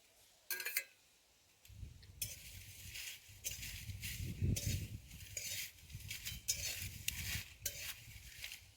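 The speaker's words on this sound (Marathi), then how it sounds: "आता आपल्याला ही तमालपत्र भाजून घ्यायचं. त्या तमालपत्राला आपण थोडंसं तेल टाकायचं." Bay leaves roast in a little oil in a pan, with soft sizzling and intermittent stirring scrapes, faint and close, with no talking.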